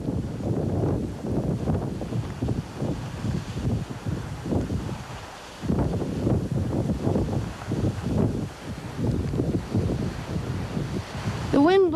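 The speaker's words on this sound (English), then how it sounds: "The wind blows to 15 gusts, but it's dying" Gusty wind roars across a clear mountain summit, buffeting the microphone in a steady, surging rumble that dips briefly midway and then returns.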